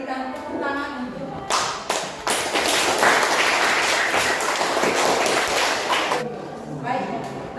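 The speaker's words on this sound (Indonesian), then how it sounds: "Kita berikan tepuk tangan untuk" Applause from an audience at a school teaching session, a dense wash of clapping that swells after a few sharp claps and fades near the end, with speech around it.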